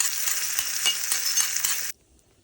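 Buttermilk-soaked chillies crackle in hot oil as a tempering for beetroot guava chutney, a loud, dense, close sizzle with popping spatters that stops abruptly, leaving near silence.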